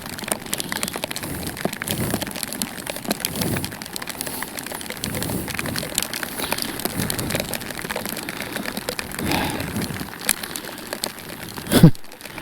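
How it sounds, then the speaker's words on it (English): Rain falling steadily and pattering on gear and a bag outdoors near the ocean in Labrador, a continuous soft hiss with scattered drop taps, a bird calling and a louder crinkle near the end. "I'm really tired of being rained on."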